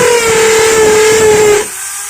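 A Maktec MT811 electric drill, just repaired with a new gear, runs with a steady high whine for about a second and a half, then cuts off abruptly into quiet.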